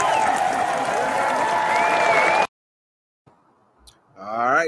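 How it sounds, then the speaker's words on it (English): An audience applauds and cheers for Dr. Randy Short, a loud continuous roar of clapping and crowd noise that cuts off abruptly, followed by near silence and then a speaking voice. "Clap it up for Dr."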